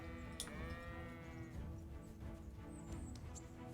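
A sheep bleats once in the medieval game Kingdom Come: Deliverance, a drawn-out wavering baa lasting about a second, heard quietly over faint background game sounds.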